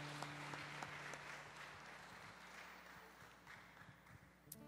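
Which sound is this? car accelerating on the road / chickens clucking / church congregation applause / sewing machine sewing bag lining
church congregation applause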